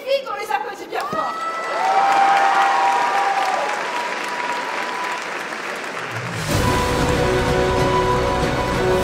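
Crowd applause and cheering for cosplayers at a Nintendo cosplay contest on stage at a convention, loud and sustained, with scattered shouts; music starts near the end, under the clapping.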